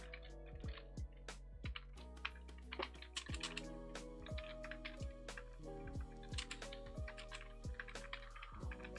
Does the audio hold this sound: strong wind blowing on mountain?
no